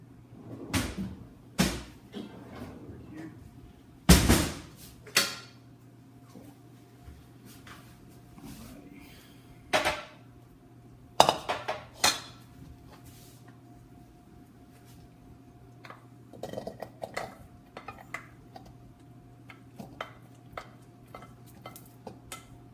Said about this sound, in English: I'm going to go find a bowl to put the steamed vegetables in